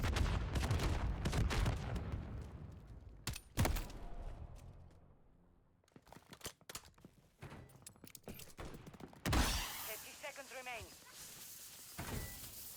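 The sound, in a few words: assault rifle gunfire in a video game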